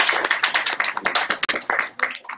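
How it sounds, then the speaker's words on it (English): Workshop attendees clap for a young man, a short burst of brisk handclaps from a modest group, close and uneven, fading slightly at the end. "We give the young man a round of applause."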